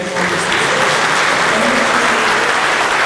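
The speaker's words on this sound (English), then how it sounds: "But a round of applause for everything," Loud, sustained applause from a concert audience at Gray Day 2026 in Glasgow, a dense wash of clapping that fills the whole stretch without pause.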